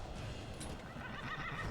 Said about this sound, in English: I just want this horse to tame.